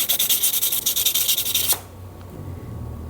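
The diamond sharpener face of a wrench multitool rasps against metal in quick, even strokes, about a dozen close scraping passes over under two seconds, then stops, leaving a quiet low hum.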